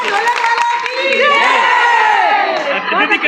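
A crowd at a bhandara feast held at the Shri Vagheshwari Mata temple in Malad cheers and shouts loudly, with children's voices and whoops over a dense, continuous roar, and some clapping mixed into the noise.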